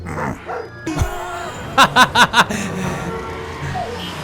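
A golden retriever barks in a quick run of four sharp, evenly spaced woofs, close and loud, with faint room noise around it in a television scene.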